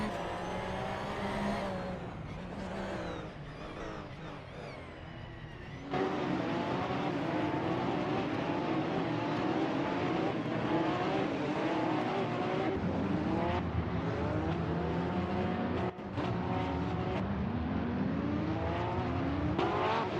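2017 Porsche 911 991 GT3 Cup race car in a racing game, its engine screaming through repeated rising gear pulls and downshifts, loud and close, with a sudden jump in intensity early on and brief cuts in the sustained howl.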